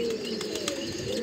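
A moti wale (pearl-marked) pigeon of a pure Sialkoti breed giving a brief, low coo, a single short murmur heard close and alone over a light background hiss.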